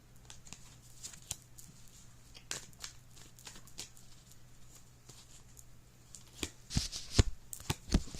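Tarot cards shuffled close by in a quiet room: soft, repeated riffling and tapping throughout, with sharper card snaps toward the end.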